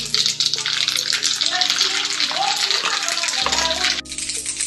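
Cumin and mustard seeds sizzling in hot oil in a pan for tempering, a loud, bright hiss with crackles and a low rumble joining partway through, steady throughout.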